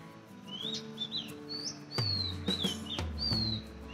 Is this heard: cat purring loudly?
no